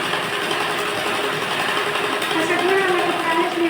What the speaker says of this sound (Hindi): आगे की साइड का टाइटली खींच करके हमें इस तरह से सिलाई लगाना है